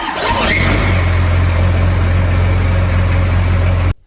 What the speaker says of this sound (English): So we just got the truck running.